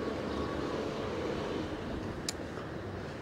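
Steady wind roars into the microphone while riding a DYU C3 e-bike, a continuous broadband rush with one brief faint click partway through.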